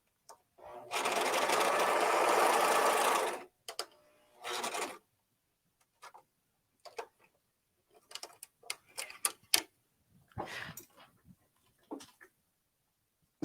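An Amber S|100 overlock sewing machine runs in one steady, loud burst of about two and a half seconds, then falls quiet apart from a short second whir and scattered small clicks and handling noises.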